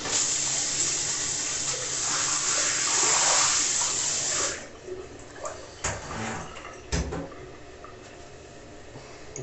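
Tap water runs into a bathroom sink to rinse away shaving stubble, a steady hiss that stops partway through, followed by a few faint knocks and clatters.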